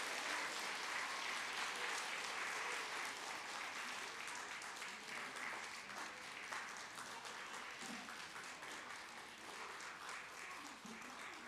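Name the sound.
church congregation applause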